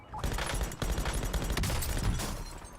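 Rapid bursts of automatic gunfire from a shooter video game, loud and dense throughout with near-continuous shots.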